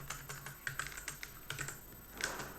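Code typed on a computer keyboard for a note app, quick irregular clicking keystrokes in short runs with brief pauses, close and quiet, no talking.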